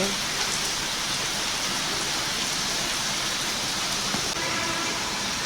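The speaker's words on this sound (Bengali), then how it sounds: "ঝুম বৃষ্টি হচ্ছে," Heavy early-morning rain pours down in a dense, unbroken hiss, loud and close, with scattered drops striking a surface and no voices.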